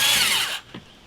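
A power drill whines loudly up close while boring a hole, then cuts off abruptly partway through, leaving a faint knock and quiet.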